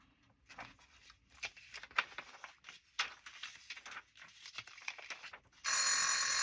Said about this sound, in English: I set my timer for an hour so I could work in here for an hour before I moved on to something else, and I forgot.